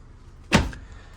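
A closet door swings open in a home in Bangkok, giving a single brief, moderately loud thud-and-rattle with a short scraping tail, otherwise quiet around it.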